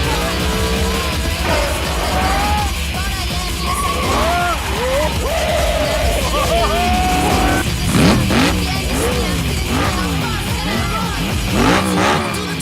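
Animated cartoon cars rev their engines and skid through drifting turns in a Tokyo street race, with whining engine pitch sweeps and tire squeals layered over a busy, loud soundtrack throughout.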